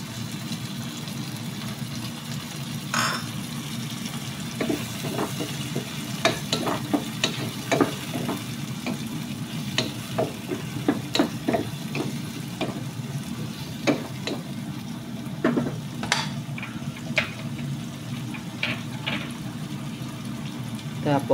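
Sweet and sour tilapia sizzles steadily in a pan as pineapple tidbits go in, with scattered clicks of stirring and utensils over the constant frying hiss.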